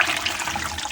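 Tap water running steadily at close range, a brief hissing rush of water from a household faucet.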